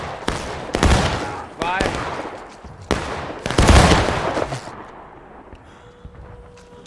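Muskets fire one by one in War of Rights during independent fire: several loud, sharp cracks, each trailing off in a rumbling echo, with a voice between shots.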